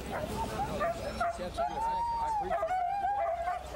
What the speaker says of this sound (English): The street is full of teams of dogs.